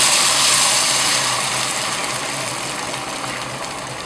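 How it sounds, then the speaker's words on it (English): Hot water is poured onto fried rice and onions in a pan for pilaf, giving a steady, close gushing hiss that fades slightly as the pour goes on, with no voices. "now I'm going to add just plain hot water to this"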